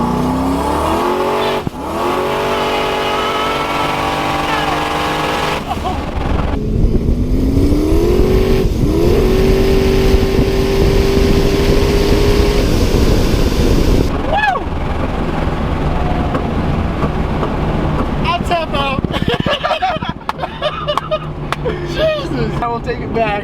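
A turbocharged Camaro pulls hard on the road, its engine note rising steadily through the gear with a clear upward sweep, a brief shift, then another climb; occupants talk over the loud cabin engine roar.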